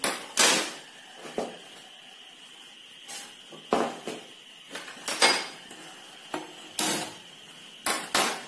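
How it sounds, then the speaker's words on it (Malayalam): A metal pan set down on a stove top while making a homemade fried snack mixture: a string of separate clanks and knocks, close and fairly sharp, spaced apart with quiet between them and no talk. "ഇപ്പൊ നമുക്ക് പാത്രം അടുപ്പത്ത് വെക്കാം,"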